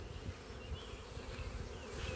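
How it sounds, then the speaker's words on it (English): A honey bee swarm that has lost its queen, buzzing as a steady, close, droning hum of many insects, continuous and fairly loud with no voices. "these bees here don't know where their queen went."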